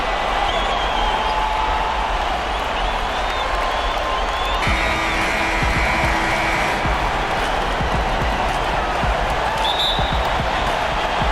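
A basketball arena crowd in the NBA 2K19 video game, the Oklahoma City home fans before a Thunder playoff game against Portland, a steady loud roar of cheering and noise that fills the whole stretch without a break.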